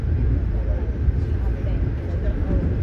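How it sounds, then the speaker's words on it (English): A Long Island Rail Road train passes outside a moving passenger train on the run between Boston and New York, heard as a continuous, loud, deep rumble with a voice speaking over it. "here's a Long Island Railroad train that we are about to pass."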